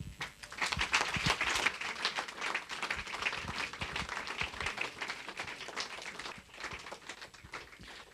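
Audience applause at an awards party, a dense patter of many hands clapping at moderate volume for several seconds, fading slightly toward the end.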